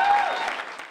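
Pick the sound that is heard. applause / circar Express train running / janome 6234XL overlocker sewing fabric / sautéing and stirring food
applause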